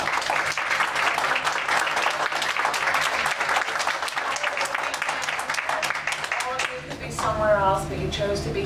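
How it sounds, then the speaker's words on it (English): An audience at an equity lecture event applauds steadily and loudly for several seconds, the dense clapping thinning toward the end as a voice begins speaking over it. "really, another round of applause for sharing"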